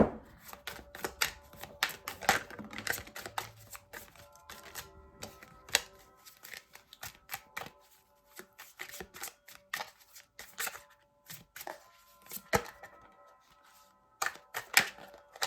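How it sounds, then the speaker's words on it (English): A tarot deck being cut and handled, giving a long run of sharp card snaps and flicks in irregular clusters, close and fairly loud, with no talking over it. "I'm gonna just cut this deck in half."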